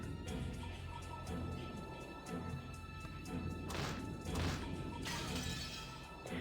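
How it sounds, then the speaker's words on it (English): In a video game, an antique chair is swung repeatedly into a glass window, producing a series of loud smashing crashes and shattering bursts with heavy thuds between the impacts. "The glass smashed with a violent sound, and the frame groaned and creaked."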